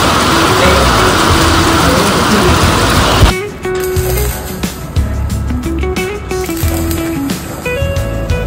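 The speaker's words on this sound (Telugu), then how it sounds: "సో మనకి వర్షం రావడం జరుగుతుంది." Steady heavy rain hisses outdoors at a house site in Hyderabad for a few seconds. It then cuts to a quieter patter of drops with scattered drips and faint background noise.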